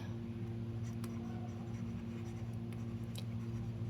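Faint pen-on-paper scratching from writing by hand during a lesson, a few light strokes over a steady low hum, quiet and close.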